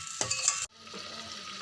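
Onions and tomatoes frying in a pan with added water, stirred briefly at first, then a steady soft sizzle continues on its own at low volume.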